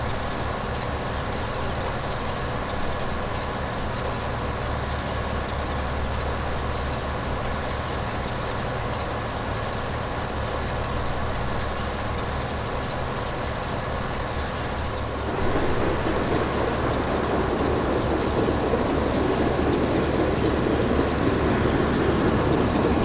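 A train rolls past in Farming Simulator 15, a steady rumble of engine and wagons that grows louder and rougher partway through, with no voices.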